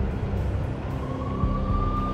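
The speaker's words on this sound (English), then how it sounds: "I could hear the sirens. Their wail was a crescendo." Police sirens in the Max Payne video game, a steady wail under a dense traffic rumble, loud and continuous, with a rising tone partway through and no voices.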